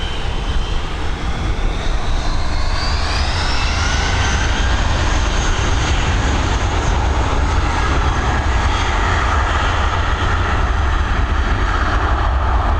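Airliner jet engines spool up for takeoff at Dublin Airport, a loud, continuous roar with a rising whine over the first few seconds that then holds steady and close.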